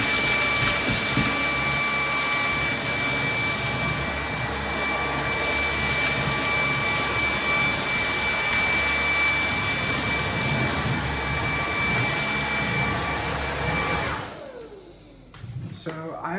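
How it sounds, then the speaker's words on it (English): A Ryobi ONE+ HP brushless dual-roller stick vacuum runs on high with its brush rollers spinning while picking up Cheerios, a steady loud whooshing roar that lasts about fourteen seconds before winding down. "I'm going to keep the brushes on and keep the roller on, keep the brushes on, and I'm going to keep the vacuum on high."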